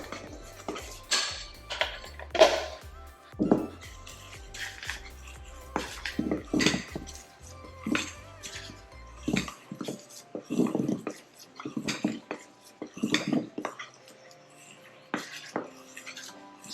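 A utensil clinks and scrapes around a bowl while flour and baking powder are mixed for a vanilla cake, in irregular bursts of tapping with short pauses between, close and fairly quiet.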